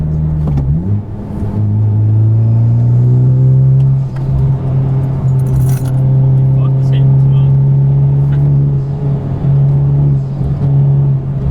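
A car in sport mode accelerates through a turn, its engine droning loud and steady with a rising pitch early on, then holding a strong sustained note with road rumble.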